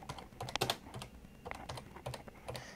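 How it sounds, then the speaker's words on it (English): Keys on an electronic daisy wheel typewriter with an LCD display clack in a quick, irregular run of soft keystrokes, with a few sharper strikes near the start and no voice over them. "Now, when I type the letters,"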